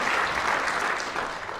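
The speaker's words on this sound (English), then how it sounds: "give Gary a round of applause" An audience claps steadily at a city address, a dense close wash of applause with no voices over it.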